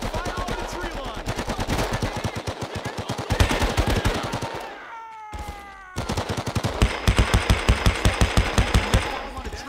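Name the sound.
gunfire in the Xbox video game Men of Valor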